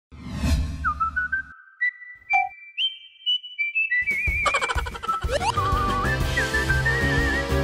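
A man on a Vietnamese game show whistles to imitate a flute, bright sustained tones sliding between pitches in short melodic phrases, with a pause midway and a hiss of background noise returning near the end.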